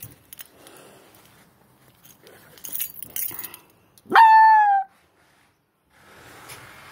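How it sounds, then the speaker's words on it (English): Light rustling and clicks, then a single loud, drawn-out bark or yelp close by, followed by quiet and faint background noise. "He's barking."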